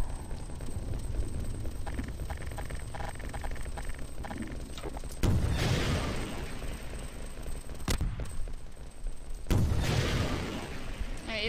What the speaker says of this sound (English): All I can see is a gunfire.